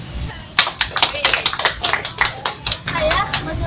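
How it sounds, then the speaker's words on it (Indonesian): Hand clapping from a group in Banyuwangi, a quick burst of sharp claps about 0.6 seconds in, continuing for roughly two seconds before fading out, close and fairly loud. "Tepuk tangan."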